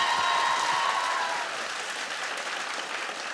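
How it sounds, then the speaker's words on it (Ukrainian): Audience at a leadership club presentation applauds a guest's introduction, with a steady wash of clapping that fades slightly, sustained and fairly even, briefly overlaid by a faint tone at the start. "Аплодисменти."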